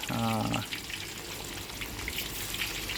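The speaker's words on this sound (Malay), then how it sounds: "Ubi kentang ni kita rebus dulu sampai dia empuk. Lepas tu kita goreng lah." Boiled potato wedges, uncoated, frying in hot oil: a steady crackling sizzle with scattered pops runs throughout, faint and continuous, after a brief tone at the start.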